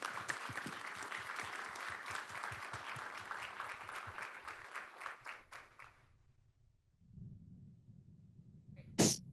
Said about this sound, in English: So let's give a round of applause for our speakers today.